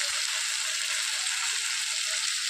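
Bitter gourd sizzles in a hot pan as tamarind juice is poured in, making a steady, bright frying hiss with faint crackles that continues evenly throughout.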